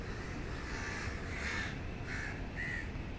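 An agitated crow near a dog that has seized a crow chick gives three short, harsh caws in quick succession over a steady background hiss.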